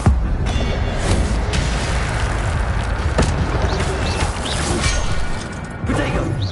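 An Incendio fire spell cast again and again in the Hogwarts Legacy video game produces bursts, booms and whooshing blasts over dense, busy game audio.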